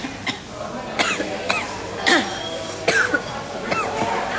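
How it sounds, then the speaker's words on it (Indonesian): A woman coughs with her face mask taken off, giving about six sharp, close coughs spaced roughly half a second to a second apart, with faint throat sounds between. "Mama kalau batuk gimana?"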